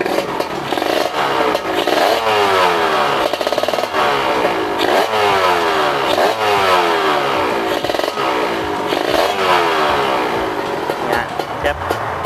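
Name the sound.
motorcycle engine revving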